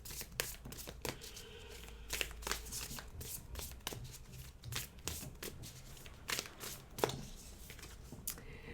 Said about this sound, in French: on va regarder ce qu'il faudrait faire.